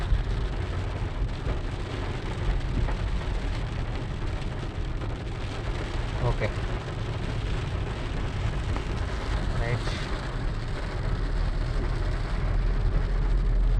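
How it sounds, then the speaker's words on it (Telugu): Rain heard from inside a Brezza car during a driving lesson, a steady, broad wash of rain and road rumble that runs continuously, with a brief spoken remark partway through. "రైట్ అంటే వెనక నుంచి వస్తుంది వర్షం"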